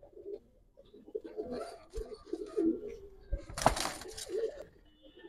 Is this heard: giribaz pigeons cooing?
yes